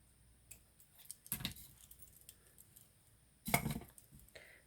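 Scissors snip through strands of a bead necklace in two faint, quick cuts, one early and one later, over a quiet background.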